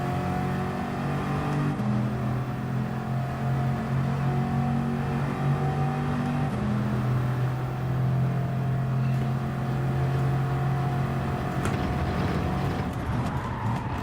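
Race car engine droning steadily from a Gran Turismo 7 race on hard tires, a sustained loud hum with shifting pitch as the car brakes and corners, no talk over it.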